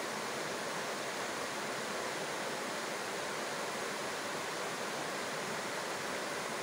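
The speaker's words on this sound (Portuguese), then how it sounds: "Legal o percurso, do jeito que a água serpenteia por entre as rochas ali." Water winds between rocks in a gently sloping mountain stream at Águas Brancas in Três Coroas, making a steady, unbroken rushing hiss with no breaks, heard alone without voices.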